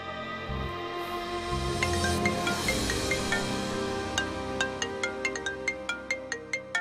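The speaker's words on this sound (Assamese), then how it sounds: "অনিয়ে ফোন কৰিছে" A mobile phone rings with an incoming call, its ringtone a rapid, evenly spaced run of bright repeating beeps that starts partway through over a fuller musical background and grows more prominent toward the end.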